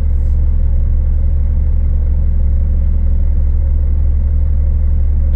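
A truck rolling along a road in Bashkiria at dawn, heard from inside as a steady, loud low engine rumble and drone with little change throughout.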